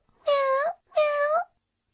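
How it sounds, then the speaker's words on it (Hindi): Two clear cartoon cat meows in a row from an animated Doraemon film, each about half a second long with a short gap between them, loud and close with nothing else underneath. "म्याऊ, म्याऊ"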